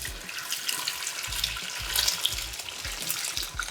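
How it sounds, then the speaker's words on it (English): Boiling water pours steadily over cabbage in a continuous hiss and splash, with soft low knocks underneath. "And now I just wanna blanch the cabbage with some boiling water."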